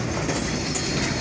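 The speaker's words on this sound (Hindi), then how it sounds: "और देखिए ये हम लोग हैदराबाद रेलवे स्टेशन से मूव हो चुके हैं कोटली के लिए" A goods train rolls steadily along the rails near Hyderabad railway station, its wheels giving a continuous, loud rumble with faint clickety-clack and no voices.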